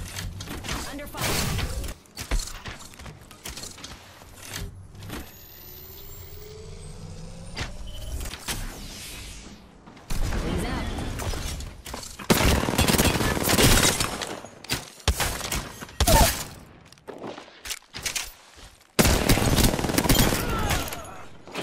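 Gunfire in the game Apex Legends: bursts of rapid automatic shots and single cracks come in uneven clusters, some loud and close, others fainter, separated by quieter gaps, with brief player talk in between.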